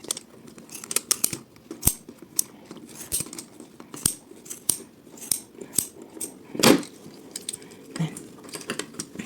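Scissors snip through yarn wound on a pom-pom maker, giving a series of close, sharp clicks and short cuts spaced unevenly over quiet background.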